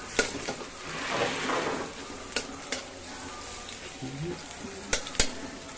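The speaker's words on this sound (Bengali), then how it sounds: "আচ্ছা, আমি একটু নাড়াচাড়া দিয়ে দিই।" Onions frying in mustard oil in a pan, stirred with a utensil: a steady moderate sizzle with a swell of hissing, broken by several sharp clinks and scrapes against the pan.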